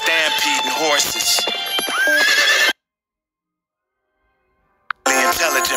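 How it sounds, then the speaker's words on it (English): Horse neighs and hoofbeats of a stampeding herd, set within a rap song intro, loud over dense music before a sudden drop to near silence, then the music returns. "led by a herd of stampeding horses"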